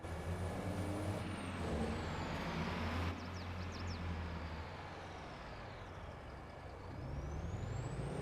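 A truck in the Farming Simulator 22 video game roars steadily throughout, with a low engine rumble and a hiss like an air brake near the start, loud and close with no talking.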